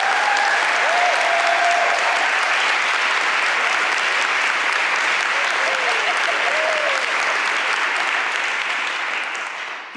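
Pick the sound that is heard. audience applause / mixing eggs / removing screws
audience applause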